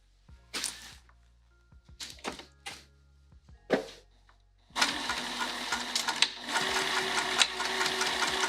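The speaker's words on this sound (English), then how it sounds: "I'm going to sew." A domestic sewing machine sews in short separate bursts with pauses between, then runs in a longer steady stitching stretch, close and fairly loud with no talking.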